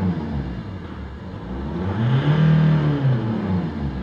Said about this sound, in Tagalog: Ang problema lang wala sa balanse yung makina, kaya nanginginig na parang palyado pero hindi siya palyado.